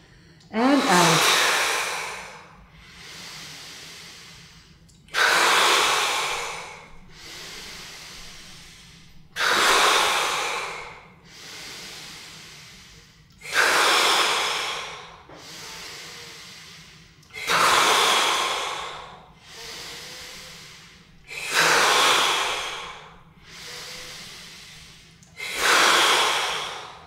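Slow, deliberate breathing exercise: about nine loud, close inhale-exhale cycles spaced roughly three seconds apart, each a rushing breath sound swelling and fading, with no talk between.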